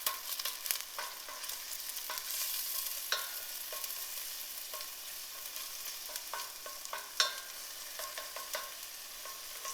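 Garlic frying in a pan for a Mediterranean green bean medley, a steady close sizzle of hiss and crackle with scattered sharper pops and occasional stirring scrapes, no talk.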